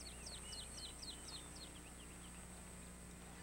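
Small birds in the African savanna give a quick run of high chirps over the first second and a half, then trail off into quieter calls, faint and fairly distant over a steady background hiss.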